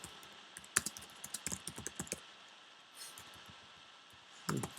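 Rapid, uneven clicks of keys being typed on a computer keyboard, close and fairly quiet, in short bursts.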